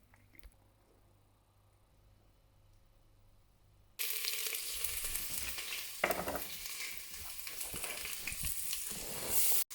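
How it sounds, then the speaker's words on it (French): Onions frying in oil in a pan for a homemade spaghetti sauce: a near-silent start, then from about four seconds a loud, dense, steady sizzle running to the end. "je fais frire mes oignons dans l'huile"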